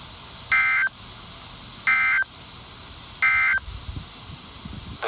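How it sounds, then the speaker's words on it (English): NOAA Weather Radio KHC27 sends its weekly EAS test alert tones as three short, identical bursts of harsh electronic data tones, evenly spaced over a faint background hiss. "And that you just heard was a KHC27 weekly test from,"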